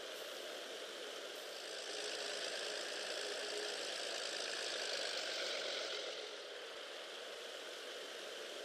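A single IL-2 Sturmovik ground-attack aircraft engine in a flight simulator runs steadily at idle and low power before taxiing, a broad droning rumble that swells slightly in the middle then eases back, with no voices.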